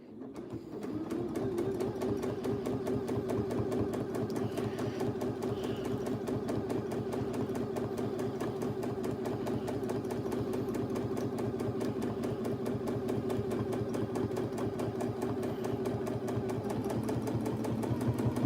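A sewing machine stitches steadily during free motion quilting, a continuous rapid mechanical chatter at an even speed, close and clear, running alone without talk for the whole stretch.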